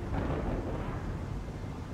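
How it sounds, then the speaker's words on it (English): A heavy storm at sea, heard as a continuous loud low rumble like thunder and pounding weather, dense and unbroken for the whole moment. "Just past Crete, it gets into a heavy storm."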